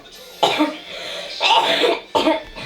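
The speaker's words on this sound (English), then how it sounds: "And you've got a cough again?" Three harsh coughs, close and loud, spaced about a second apart with quieter breathy noise between them.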